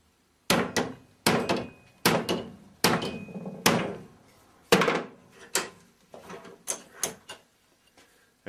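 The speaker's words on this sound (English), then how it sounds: "So take a decent sized hammer." A decent-sized hammer strikes a strip of 1/8 plate clamped in a vise to bend a kink in its end, a series of about twelve sharp metallic blows in a fairly steady rhythm, each ringing briefly.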